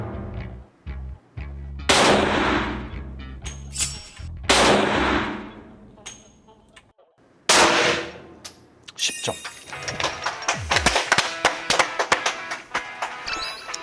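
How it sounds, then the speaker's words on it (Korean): Handgun shots ring out at an indoor shooting range, a series of loud sharp single reports spaced a few seconds apart, then a flurry of clattering taps and metallic clicks, with no talk over them. "마지막 한 발 꼭 10점을 제가 쏘고 싶네요"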